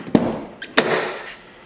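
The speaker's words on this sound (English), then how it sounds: "Let me open the door here." A car door of a Honda S2000 opens with a couple of short clunks and a latch click, followed by a brief rustle; fairly close and quiet, with no voices.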